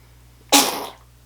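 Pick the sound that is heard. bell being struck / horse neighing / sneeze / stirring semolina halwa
sneeze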